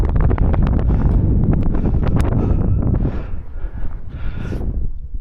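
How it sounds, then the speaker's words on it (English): Wind gusts buffet a microphone on the summit of Arthur's Pike, a loud, continuous rumbling roar that eases slightly toward the end. "It is a bit breezy here, so hopefully you can hear us."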